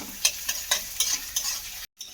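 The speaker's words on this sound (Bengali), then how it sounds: "এই পেঁয়াজ কুচানোটাকে দিয়ে দেব। আর একটু অল্প করে লবণ দিয়ে দেব, তাতে করে তাড়াতাড়ি কিন্তু এটা ভাজা হয়ে যাবে" Chopped onions fry with a little salt in a pan, stirred in quick rhythmic scraping strokes over a soft sizzle, heard up close before a brief abrupt cut.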